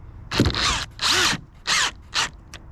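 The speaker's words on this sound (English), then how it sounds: "We are using a drill to try to speed the process up" Four short bursts of a power drill loosening a battery terminal on a Silverado/Sierra, each about half a second long with brief pauses between, loud and close.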